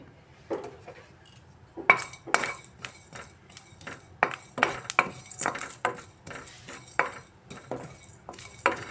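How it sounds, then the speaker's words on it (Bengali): A utensil stirs roasted spice paste in a hot wok for potato curry, making irregular metallic scrapes and clinks. The knocks are close and fairly quiet, with no voices. "কড়াই গরম হয়ে গেছে এবার ভাজা মশলাটা আমি ফ্রাই করে নিচ্ছি"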